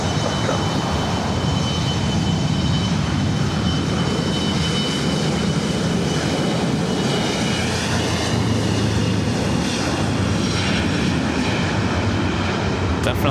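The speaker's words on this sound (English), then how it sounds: "the Lufthansa Queen taking off on the south side" Lufthansa airliner taking off at LAX, a loud, sustained jet engine roar with rising whine that swells steadily throughout.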